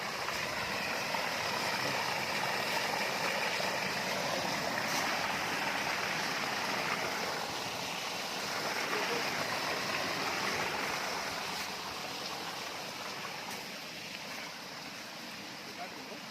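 Water pumped by an electric motor from a farm well on farmland near Avinashi in Tiruppur gushes out in a continuous, fairly quiet rushing flow that eases slightly toward the end, with faint voices in the background.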